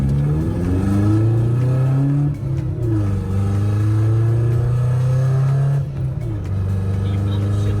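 A 1996 Acura Integra with a straight pipe exhaust idles roughly up close. The low engine rumble is loud, steady and uneven, with talk over it.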